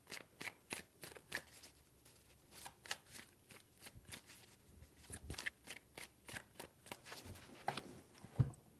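Tarot cards being shuffled by hand: a string of quick, crisp riffling bursts, close and soft, in an uneven rhythm, with a sharper snap near the end.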